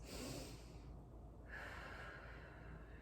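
Deep breaths drawn in through the nose and let out through the mouth during a lower-body core exercise lying back on the floor, with a broad, airy rush that fades briefly midway and then returns, close and fairly quiet.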